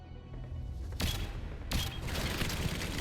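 Bursts of rapid gunfire from a weapon in the video game Mass Effect 3, two sharp loud volleys followed by sustained noisy firing and combat din, with no talk.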